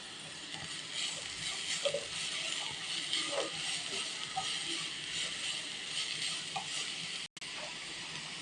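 Beetroot and carrot sautéing in a pan, a continuous close sizzle and hiss with scattered crackles and faint stirring clicks throughout.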